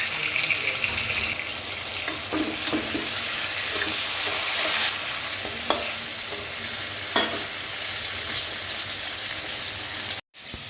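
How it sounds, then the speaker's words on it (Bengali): Katla fish fries in a pan, producing a loud, steady hiss of hot oil across the whole stretch, with a few faint clicks and knocks and a brief dropout near the end; no talking. "আর এদিকে হচ্ছে এখন মাছ ভাজা।"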